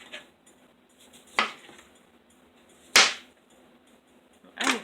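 A knife cuts through a lemon, with three or four sharp slicing crunches spaced a second or so apart over quiet background noise.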